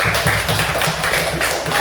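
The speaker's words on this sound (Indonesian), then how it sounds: "kita tepuk tangan dulu untuk kelompok Sair" Audience clapping for a group presentation in a classroom setting, a close, loud patter of hands with a loose rhythmic pulse, filling the whole stretch without talk.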